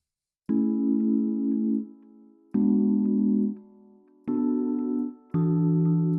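Four sustained R&B keyboard chords played one after another, each held about a second and a half with brief gaps, smooth and warm with no voices.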